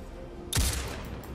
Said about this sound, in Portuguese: Vamos usar esse sniper aqui.